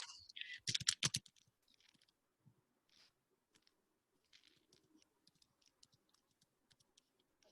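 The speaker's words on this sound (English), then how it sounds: "I'm typing it." Typing on a computer keyboard during an online meeting: a quick burst of clustered key clicks at the start, then sparse, faint, irregular single taps in a quiet room.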